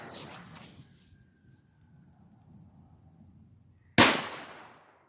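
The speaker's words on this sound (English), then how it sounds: "But first let's light a standard firecracker." A standard store-bought firecracker goes off with one sharp, loud pop near the end, preceded by quiet fuse hiss and outdoor ambience, then a brief fading tail.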